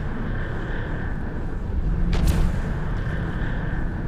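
A Rattlesnake ship explodes in EVE Echoes space combat, one loud booming blast rising midway over a constant droning hum, with no talking.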